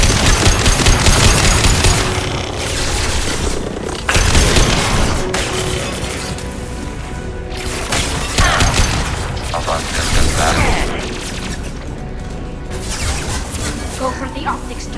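Automated light weapon fire in Mass Effect 2 rattles in loud, dense bursts mixed with heavy booms and impacts, continuous and close throughout, with voices talking over the combat.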